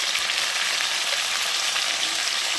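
Soybean chunks and ground spices frying in a pan, giving a steady, even hiss of sizzling oil that stays constant throughout, close and moderately loud with no talking.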